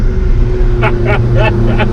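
An Alfa Romeo 4C Spider engine holds a loud, steady low drone while driving, with a few short higher bursts over it and no speech.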